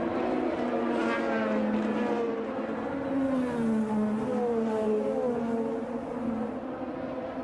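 IndyCar race cars roaring through the final lap at Detroit, a continuous loud engine drone with shifting pitch as cars pass, steady and close throughout.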